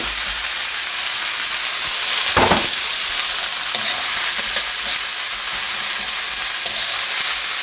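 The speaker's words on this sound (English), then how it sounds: "Then I'm adding the mixed vegetables" Mixed vegetables sizzle and crackle steadily in a hot pan during a stir-fry for pork chilli with gravy, a dense continuous frying hiss with a brief louder burst of stirring partway through, no voices.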